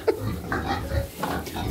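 A farm pig squeals and grunts in several loud, rough bursts close by, within a pen of piglets.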